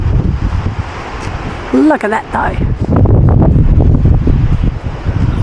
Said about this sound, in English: Man, it was windy.